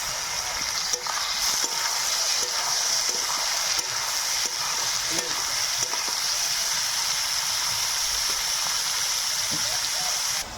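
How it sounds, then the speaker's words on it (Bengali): Onion and tomato sizzle steadily in a wok over a tempering of whole cumin and garam masala, a dense, continuous frying hiss with faint stirring clicks, heard alone at close range. "একই সঙ্গে পেঁয়াজ টমেটো দুটোই দিয়ে দেব।"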